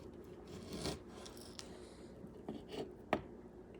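A knife draws through raw pork belly on a board, making soft scraping and rasping strokes with a few sharper taps. It sounds close but quiet, and no one speaks.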